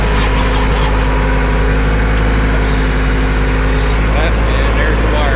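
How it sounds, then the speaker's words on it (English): A tractor engine runs steadily while digging a trench, a loud continuous low rumble with a constant hum, near and unbroken, with faint voices mixed in. "we've got the tractor out again because we're digging a trench"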